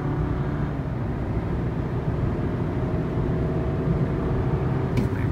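A 2018 Toyota Camry accelerating on the road: a steady, dense low engine and road rumble, heard from inside the car, holding an even level with no talk.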